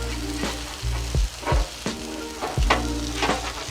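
Hash browns sizzle and fry in a pan, a steady crackle broken by several clattering stirs or scrapes of a spatula, close and fairly loud with no talk.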